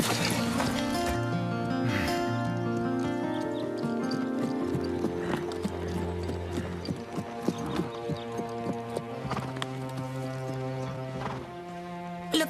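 A horse's hooves clip-clop steadily during a riding and show-jumping lesson in an animated series, with a sharp rhythmic beat running under background music and no talking.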